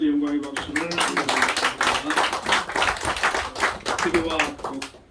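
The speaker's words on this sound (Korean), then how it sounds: "우리 하나님께 영광의 박수를 드리겠습니다." Church congregation at a Sunday morning worship service clapping together, loud and close, a dense burst of hands sustained for several seconds, with voices and sung or spoken tones mixed in underneath.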